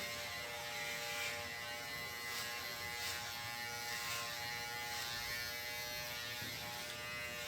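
An electric hair trimmer buzzes steadily and quietly while clipping fine, light blonde hairs during a barber's fade haircut, a constant close hum with slight rhythmic swells as it passes over the head.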